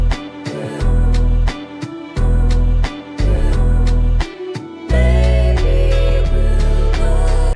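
Deep, sustained bass notes under a sampled hip-hop loop, arriving in loud, steady blocks with short gaps between phrases and no voice.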